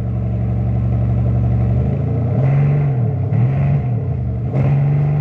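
A 2025 Bentley Flying Spur engine idles steadily, then revs up sharply several times in short bursts against a soft limiter, loud and close, with the pitch rising and falling between revs.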